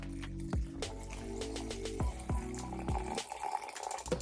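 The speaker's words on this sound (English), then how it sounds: "now what I'm gonna do is fill it up with some coconut water" Coconut water pouring into a container over drained soaked nuts, a steady close liquid trickle with several gurgling drips and splashes, no talking.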